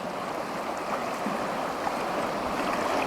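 Swift Colorado River water rushing over rocks in Rocky Mountain National Park, a steady broadband roar and gurgle, close and constant, with no pauses and no voices.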